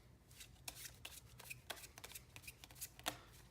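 Rapid riffling and flicking of playing cards being shuffled, a crisp papery burst of snaps repeating close up with no voices.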